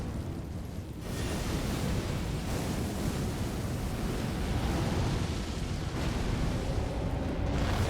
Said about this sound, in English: When second phase hits, we use some magma shots at the beginning